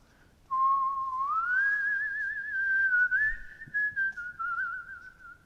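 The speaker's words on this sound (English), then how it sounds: "A whistling sound drifted out of the hole" An eerie, thin whistle drifts out of a dark hole, one long wavering tone that rises, holds and then flutters near the end, clear and alone against near silence.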